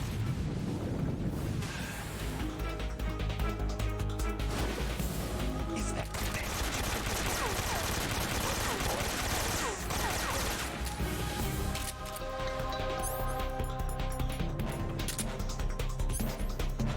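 A stun grenade going off in the video game Metal Gear Solid 3: a loud, sustained crashing burst over a dense, noisy game soundscape, with music and effects continuing around it.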